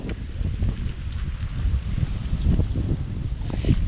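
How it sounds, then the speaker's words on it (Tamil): Wind gusts buffet the microphone with a low, rumbling roar that swells and eases at an isolated lakeside spot near Kanchipuram, with no talking. "நல்லா காற்று வேறு சூப்பராக அடிக்குது"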